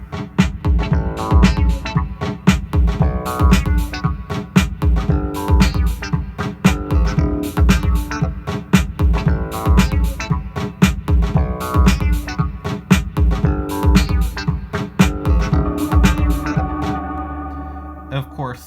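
Loudspeakers fitted with cardboard tubes and laid on their sides play dense, bass-heavy music with steady beats, continuous and loud throughout with no talking.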